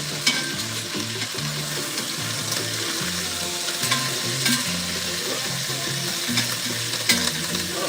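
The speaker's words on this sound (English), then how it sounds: "I'm searing off the meat." Oxtail meat sears in a hot pan with a steady, dense sizzle and crackle, while Caribbean music with a bouncing bass line plays underneath throughout.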